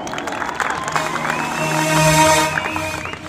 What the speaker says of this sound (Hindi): अच्छा लगा तो ताली चाहूंगा